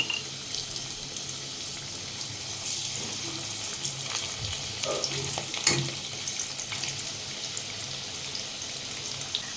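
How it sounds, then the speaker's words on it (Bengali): Potato pieces frying in oil in a kitchen pan give a continuous near sizzle, with occasional scraping and clatter of a spatula turning them and no voices. "আলুগুলো ভালো করে ভেজে নিয়েছি, এবার আলুগুলো তুলে নেব।"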